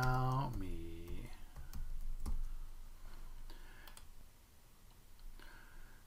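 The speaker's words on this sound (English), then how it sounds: "I'm going to type in my name" Light clicking of typing on a computer keyboard, a name entered in short bursts of taps, fairly quiet with some tonal background sound at the start.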